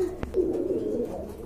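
Pigeons on a farm coo in a low, soft, rolling murmur close by, with a sharp brief knock near the start.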